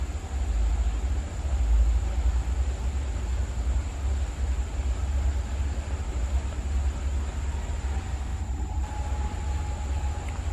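A long train hauled by a blue-and-white liveried CC 204 diesel locomotive passes a level crossing, a heavy low rumble with a steady high whine, droning continuously at close range with no speech.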